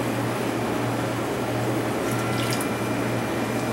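Broth poured steadily into a soup pot for cream of corn soup, a continuous close liquid splashing and rushing that holds at an even level throughout, with a low hum underneath.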